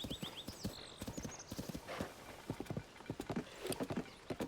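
Horse hooves clip-clop at a steady walking rhythm in Zelda: Tears of the Kingdom, close and clear, with a short whinny near the start.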